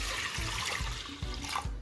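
Water poured over urad dal in a pressure cooker: a faint, soft trickle with small rhythmic glugs, close and quiet, with no voices.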